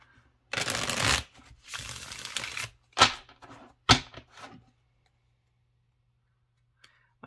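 A new deck of tarot cards being shuffled: two longer riffling bursts followed by a few sharp taps, then quiet.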